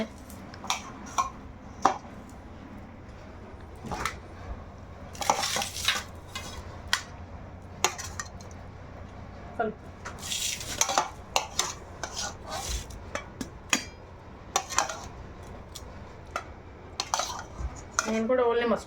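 A metal spoon scrapes and clinks against a pot as mushroom curry is served, giving sharp, close, irregular clatters and taps with short pauses in between.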